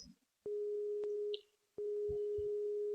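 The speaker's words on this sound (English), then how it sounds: "just keep ringing and ringing" A telephone call to the Triple J radio station line rings out unanswered, giving two long steady electronic tones separated by a short gap, close and clear with faint background noise and no talking.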